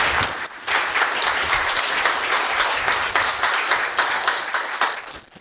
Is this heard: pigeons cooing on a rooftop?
no